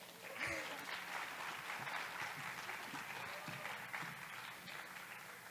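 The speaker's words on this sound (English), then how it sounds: "Can I have a round of applause for all of these kids?" Audience applause at a student pitch night, a steady, even wash of clapping from a room full of people, heard at a distance and fairly soft.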